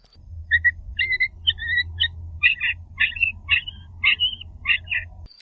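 A long-tailed shrike gives a rapid series of short, high yelping notes, mimicking a puppy's yelps, in bursts of two or three against a quiet low hum.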